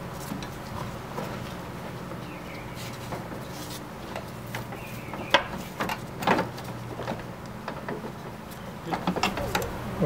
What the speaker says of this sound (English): I've already put the adjustable wrench on the nut on the top. I'm just tightening it up.